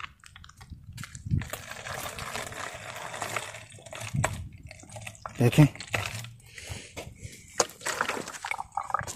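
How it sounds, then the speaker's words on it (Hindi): Water poured into a plastic bottle to make a bottle rocket, soft gurgling and trickling with a few drips, fairly close, under someone talking casually. "तो गाइस यार इसमें पानी जो है हम भर लेते हैं"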